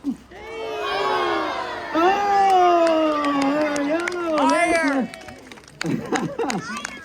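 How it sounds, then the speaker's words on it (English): A crowd cheers and claps for a juggling act at an outdoor Christmas holiday event in Vancouver, while a loud voice shouts and calls out over the noise throughout. "There's the applause that I craved"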